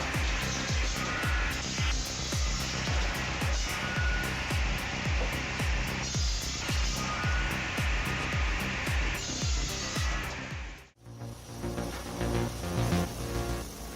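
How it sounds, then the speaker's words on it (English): Automatic firewood processing machine whose two giant saw blades run continuously as long logs are fed in: a loud, steady mechanical roar with a regular rhythmic thumping, briefly cutting out before the motor noise resumes. "two giant saw blades and a supporting shaft system work continuously, feeding long logs in and on the other side"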